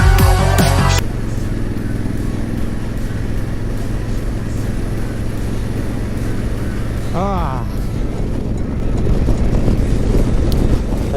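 Honda Africa Twin motorcycle cruising down a highway at night, its steady engine drone and heavy wind rush continuous throughout, with a voice talking over the ride.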